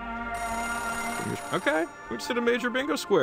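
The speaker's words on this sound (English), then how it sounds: "A payphone ringing in the wild?" Payphone ringing in the video game Oxenfree II, a steady electronic ring running through the opening second or so before a voice starts talking over it.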